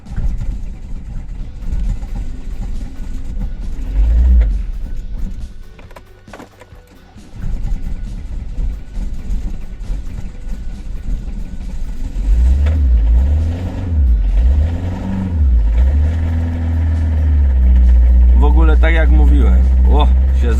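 A diesel car engine cranks and catches after being started with a Maxtools JS500 12 V battery jump starter, then runs and revs loudly and close, the deep rumble swelling over the last several seconds.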